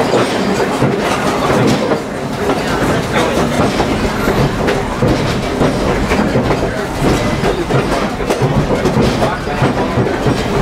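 Strasburg Railroad steam train No. 90 rolling along the rails, with a steady loud rumble and rhythmic clickety-clack of wheels over track joints throughout, heard close from inside the moving train.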